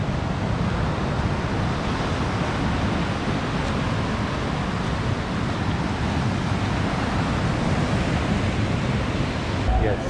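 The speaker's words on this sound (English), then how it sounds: "First up, the beach." Ocean waves breaking on a beach in Mirissa, Sri Lanka: a continuous, dense wash of surf mixed with wind buffeting the microphone, steady and fairly loud throughout.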